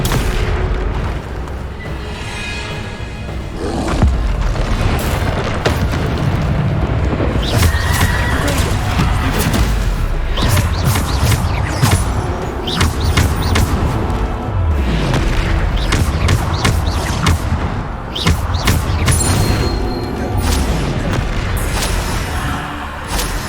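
Bombarda spell blasts during combat in Hogwarts Legacy on PS5, heavy booming explosions repeated over a dense, loud battle din with clashing effects and horse whinnies mixed in throughout.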